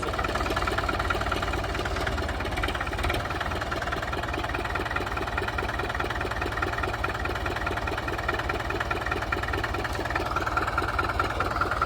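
A Belarus MTZ-50 tractor diesel engine idles steadily after starting, a close, continuous rhythmic knocking chug with a metallic clatter that holds an even level throughout, with no talking.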